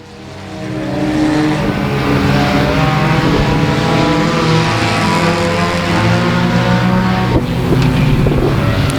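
Four-cylinder race cars roar through a heat race at a night event on a racetrack in the 2017 Louisiana State Championship, a loud, continuous droning engine chorus that holds steady for the whole stretch.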